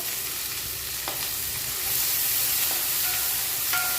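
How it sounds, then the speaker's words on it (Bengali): Chopped onion, garlic and dried red chilli sizzle in hot oil as a tempering for lentil dal with bottle gourd greens, a steady close crackle and hiss with a few soft clicks, no voices. "ফোড়নে দিয়ে দিচ্ছি পেঁয়াজ কুচি, আর দিয়েছি রসুন কুচি, দিয়ে দেবো শুকনো লঙ্কা"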